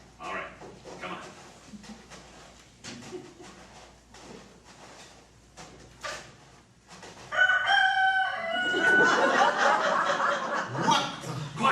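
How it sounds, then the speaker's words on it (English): A rooster crows as a radio drama sound effect, several bright rising calls in a row, loud and close, arriving after a stretch of quiet rustling and brief muttered voices. "I could swear that sounds like a rooster"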